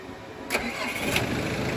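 Engine of a Japan surplus military jeep starting up, a short burst of cranking that catches into a steady mid-pitched running rumble, close by and moderately loud.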